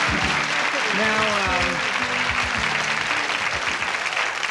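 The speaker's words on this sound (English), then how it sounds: "Listen to the applause." Steady, dense studio audience applause on a 1986 game show, filling the room loudly from start to finish while a voice talks over it.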